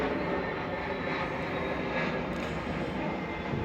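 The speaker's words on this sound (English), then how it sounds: "The one plane that just flew over for the day." A fixed-wing airplane passes overhead, a steady broadband engine roar that holds at an even level throughout with no talk.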